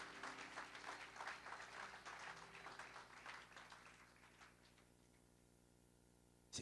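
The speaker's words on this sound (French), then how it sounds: "Acclame pour lui" A church congregation in Brussels applauds and cheers for Jesus in loud, dense clapping that slowly thins and fades, then a short sharp burst comes at the very end.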